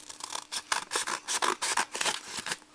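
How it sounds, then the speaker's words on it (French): Scissors cut paper for a Christmas chalet craft, a quick close series of about a dozen rhythmic snips and scrapes with no talking. "Alors, je mets là et je vais couper. On essaye de couper droit."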